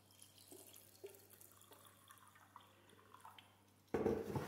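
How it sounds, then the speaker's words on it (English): Quiet small clinks and handling noises, then filtered water suddenly pours loudly and steadily into a container of rinsed almonds near the end. "Now that we are done rinsing, we'll put some filtered water."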